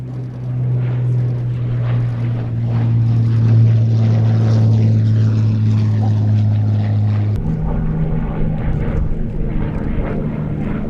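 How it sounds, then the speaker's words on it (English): Hawker Hurricane Mk I fighter, fitted with a 1,200 horsepower Pratt & Whitney Twin Wasp radial engine, makes a final pass at an airshow; a loud, steady propeller drone holds throughout, its pitch dropping sharply as the plane goes by. "Final pass from the Hurricane 1 V7497."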